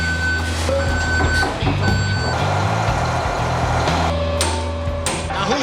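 A truck's reversing alarm beeps in a steady repeating pattern over a rumbling engine while the truck turns around on a street, with brief clanks and some faint background voices.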